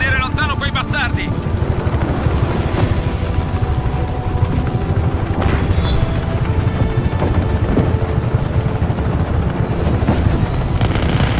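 Helicopter rotor chop drones steadily through Just Cause 3 gameplay, loud and continuous, mixed with bursts of gunfire and other game effects.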